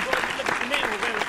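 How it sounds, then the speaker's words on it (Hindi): Crowd applause at a Hindi kavi sammelan poetry recital, a steady wash of clapping with a voice carrying over it throughout. "एक बार जोरदार तालियां बजा दीजिए"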